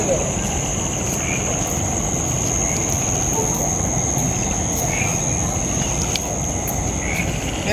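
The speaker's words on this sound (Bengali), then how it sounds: "মাঝে মাঝে আপনার ব্যাঙে ডাকতেছে।" Frogs croaking at dusk outdoors as the sky darkens, within a dense, steady wash of insect and cricket chirring with a high constant whine, the whole scene loud and unbroken.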